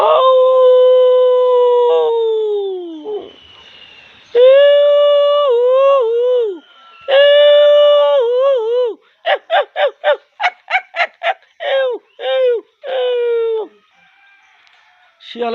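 A man imitates a jackal's howl with his voice: long, wavering, high-pitched wails that bend downward, followed by a quick run of short yelping calls and a final drawn-out howl, loud and close with no other sound.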